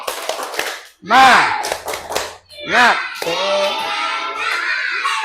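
Children in a fourth-grade classroom clap out a rhythmic 'tepuk semangat' spirit-clap routine, sharp handclap bursts mixed with their chanted voices and an adult's voice, loud and close.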